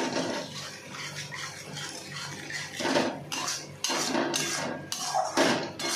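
Metal utensils scrape and clink against a pan in irregular strokes while stirring spices, close up, with no talking.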